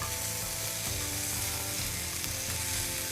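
Shrimp fry in a hot pan with a steady, dense sizzle and crackle that runs unbroken and fairly close throughout, with faint stirring noises in the background.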